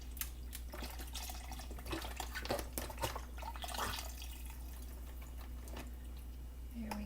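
About three cups of liquid poured into a pot of chili, a soft, steady trickle and splash with faint drips, quiet and close, with no talking.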